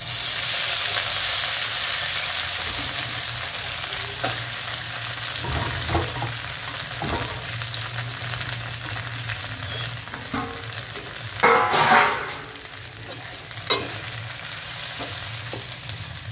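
Salted, garlic-coated cowpea leaves hit a hot pan and fry with a steady, loud sizzle, with stirring scrapes and a brief louder crackle burst partway through; no voices.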